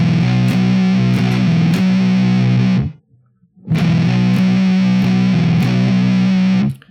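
A heavily distorted electric guitar plays a droning stoner rock riff with triplet figures, loud and thick, in two sustained passes separated by a brief near-silent break.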